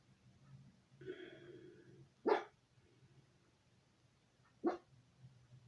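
A dog guarding a house barks at someone walking by: two sharp, separate barks a couple of seconds apart over a quiet background.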